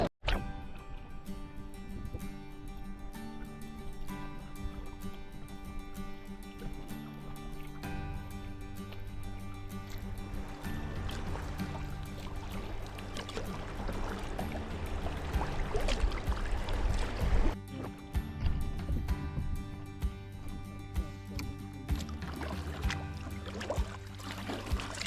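A kayak paddles down the Staunton River, with gentle watery splashes and paddle strokes over flowing water and a steady ambient wash, moderately close.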